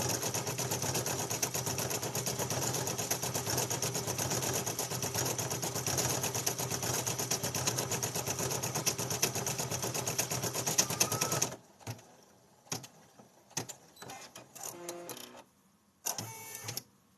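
A base model sewing machine stitches felties in a steady, fast mechanical whir for about eleven seconds, then stops, leaving only scattered handling clicks and rustles.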